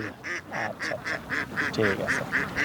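A run of nasal quacks from Khaki Campbell laying ducks on a duck farm in a steady rhythm, close and fairly loud, several birds calling over one another.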